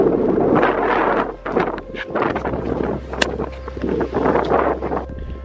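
Strong gusts buffet the microphone at a windy coastal lookout point in New Zealand, a steady roaring rush that dips briefly and returns, with no voices.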